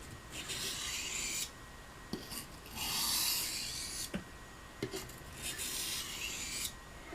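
Gunstock bone knife edge drawn lightly across a water stone to remove the burr, a soft close rasping scrape in repeated strokes with short pauses and faint clicks between passes, no voices.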